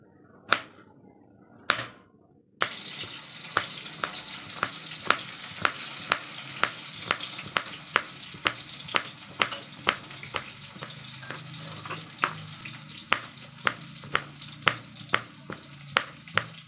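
Fish curry (jhol) sizzling in a pan on a home stove, a constant hiss of frying punctuated by regular sharp knocks of stirring against the pan, starting after a couple of isolated taps.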